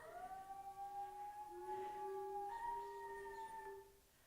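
A dog or wolf howls in long, sustained wavering tones that shift pitch midway, steady and fairly loud, then fading out near the end with no talking.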